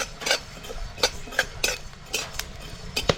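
Coriander seeds and fennel seeds roasting with fenugreek in a hot pan, stirred with a utensil, giving light rhythmic scraping and clinking strikes at a steady pace, close and fairly quiet.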